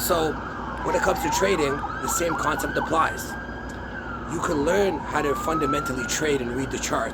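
Police and emergency vehicle sirens wail through downtown Toronto streets, rising and falling continuously beneath someone speaking steadily up close.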